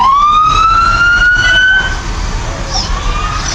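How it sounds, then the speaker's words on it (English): A loud, nearby emergency vehicle siren rises in a wailing sweep at a county parade, then fades into a lower background rumble of traffic. "behind the Hazel Green emergency vehicle is going to be the Wolfe County Search and Rescue, which I think John May runs that"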